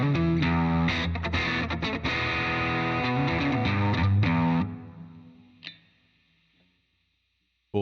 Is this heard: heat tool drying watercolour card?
no